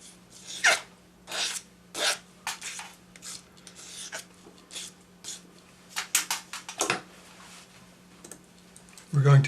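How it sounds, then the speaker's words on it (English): A sanding stick is worked over the rough end of a hammered wire in short, dry, rasping strokes that come in uneven bursts, each one close and scratchy. "Take your sanding stick and just tidy up this end because it'll be slightly rough."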